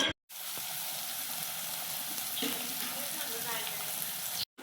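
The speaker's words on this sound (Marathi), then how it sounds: "कांदा आणि अद्रक लसूण खोबरे यांची पेस्ट आता परतून घेतलेली आहे" Steady crackling sizzle of onion, ginger, garlic and coconut paste frying in hot oil in a kadai, continuous at moderate volume, with a few faint clinks.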